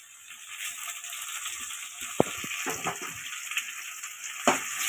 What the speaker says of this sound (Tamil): நல்லா வெங்காயம் தக்காளி நல்லா வதங்கட்டும்.